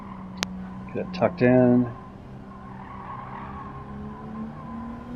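A race car in Gran Turismo 7 brakes hard and its tires skid with a short, loud squeal. Someone talks over the engine drone.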